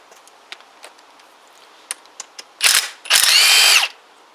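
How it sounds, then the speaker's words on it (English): A power tool undoing the head bolts on a Huoniao HN125 engine: a few sharp ratchet clicks, then two loud, close whirring bursts of about a second each. "So, head bolts."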